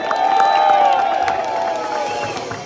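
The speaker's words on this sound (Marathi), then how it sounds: "जोरदार टाळ्या जाऊया" A crowd claps and cheers loudly and steadily at a Sahyadri Govinda Pathak event in Mira Bhayandar, with whistle-like tones riding over the dense applause.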